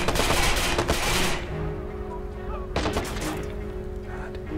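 Automatic gunfire in the Watch Dogs video game, with a dense, loud burst of shots, a pause, then a second short burst. Faint tonal game sounds linger underneath.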